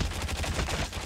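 A rapid burst of automatic gunfire shot from the hip in Call of Duty Mobile, a dense, steady stream of close, loud shots with no talk.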